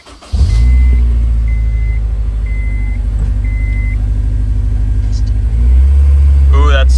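A Honda S2000 engine cranks and fires, then settles into a steady, smooth idle with a deep, constant rumble that swells slightly near the end.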